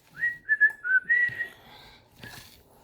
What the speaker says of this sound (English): Who can whistle?